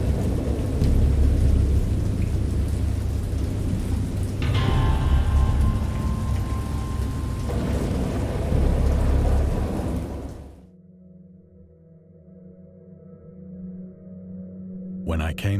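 Steady heavy rain with deep thunder rumbling in the video game Dagon, cutting off abruptly to near silence with low lingering tones.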